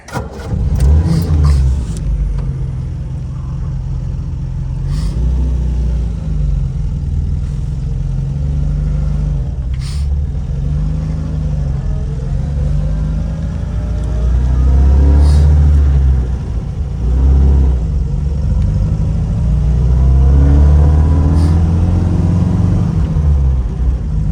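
A 1966 MGB GT engine cranks and catches with sharp bursts, then settles into a steady low rumble, rising and falling in revs as the car pulls away and drives, loud and close from inside the cabin.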